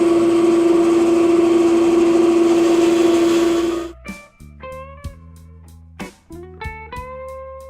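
A router fitted with a 1/2 inch flush trim bit trims the body of a 1964 ES 335 style guitar, a loud steady high whine that winds down after about four seconds, leaving scattered clicks and ringing tones.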